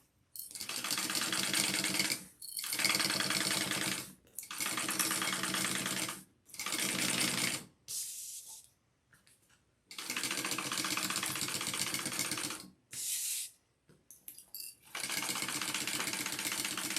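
A sewing machine top stitches along the lining side of a garment in fast whirring bursts of rapid needle clatter, stopping and restarting several times with short quiet pauses between runs.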